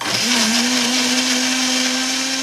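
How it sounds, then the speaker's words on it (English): Blender homogenizing a stool sample mixed with saline, a loud, steady motor whine running continuously at constant pitch, close and alone. "With some saline homogenized in a blender"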